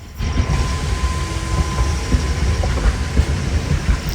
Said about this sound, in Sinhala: මේ ට්‍රේන් එක ගොඩක් දිගයි.